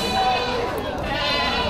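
Goats at a livestock market bleat in a steady, wavering, nasal call that runs through the whole short moment, close and fairly loud, with market chatter around.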